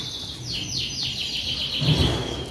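Canaries sing in breeding cages, with quick repeated chirps and trills over a busy background of many birds.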